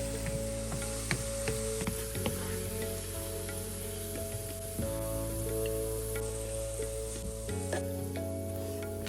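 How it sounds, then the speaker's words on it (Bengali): Sliced onions fry in oil in a pan until browned, a steady dense sizzle running throughout with occasional scraping stirs and clinks, close and loud with no talking. "এবার পেঁয়াজগুলোকে বেশ লালচে রং হওয়া পর্যন্ত ভেজে নেব"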